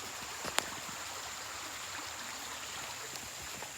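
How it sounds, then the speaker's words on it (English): Creek water flowing past a tangle of trees and rubbish, a faint steady wash heard from a little distance, with one brief sharp tap early on and no voices. "there's a creek and it's blocked up by trees and rubbish"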